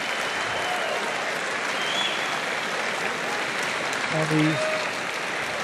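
Solid crowd applauding at the Georgia Tech Aquatic Center after a 200 IM swimming race, a continuous roar of clapping and cheering filling the hall, with a commentator talking over it.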